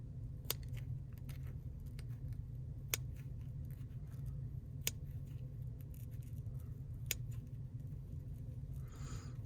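Scissors slice through a foam block, a few quiet, sharp snips spaced a couple of seconds apart over a faint, steady background hum.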